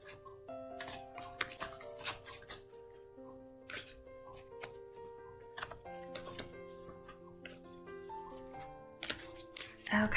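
Oracle card deck being shuffled by hand, close and quiet: repeated soft riffling and papery slaps in irregular bursts, with a faint background hum and no talking.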